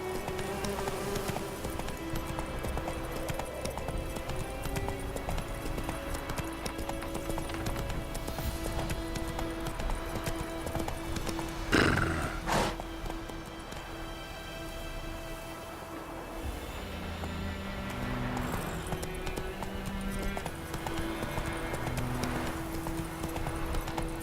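Roach, a horse in The Witcher 3: Wild Hunt prologue, gallops with steady rapid clip-clop hoofbeats over a continuous game music bed, a brief loud burst midway, and a rider's shouted calls.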